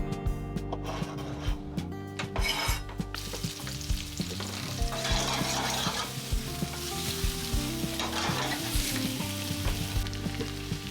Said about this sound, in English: We're gonna cook the mushrooms with some garlic